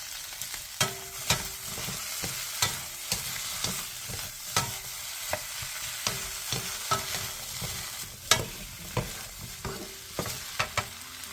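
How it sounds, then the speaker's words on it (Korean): Potatoes stir-fried in a pan with ham, onion and minced garlic, steady sizzling broken by frequent sharp clinks and scrapes of a utensil against the pan, close and without talk. "햄과 양파, 다진 마늘 반 스푼을 넣고 2분 정도 더 볶아주세요"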